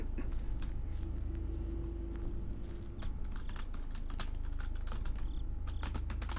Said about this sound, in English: I'm sure you can hear me hitting, keys, but I can't move.